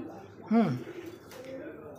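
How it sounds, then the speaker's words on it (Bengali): A pigeon gives one clear, close coo on a balcony, a short rising-and-falling call, with a voice talking faintly around it. "ভাই আমার প্রত্যেকটা কবুতরই ডাকে"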